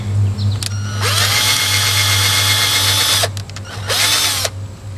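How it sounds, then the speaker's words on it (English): A power drill whirs steadily into scrap wood for about two seconds, stops briefly, then runs again in a shorter burst, loud and close. "And then I can drill the next one."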